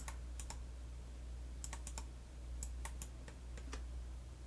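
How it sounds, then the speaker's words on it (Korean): Numbers are typed on a computer keyboard while entering coordinate values in Maya 2019. There are quick, crisp key clicks in short bursts over a faint background hum, with no voices. "그 특정한 좌표값을 직접 숫자를 타이핑을 해서 입력을 할 수도 있지만은"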